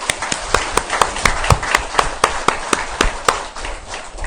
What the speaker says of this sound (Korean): 그런 의미에서 자축박수라 해서